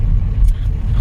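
A borrowed car on the road gives a steady, loud, low engine rumble and road drone throughout, with no talking.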